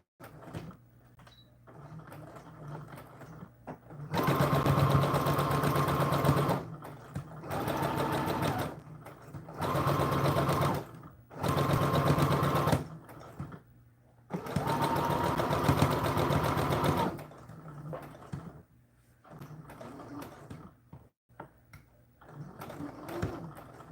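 A sewing machine runs in several bursts of rapid, even stitching with short pauses between them as a seam is sewn forward and back with a quarter-inch allowance, close and clear, with faint room noise in the gaps.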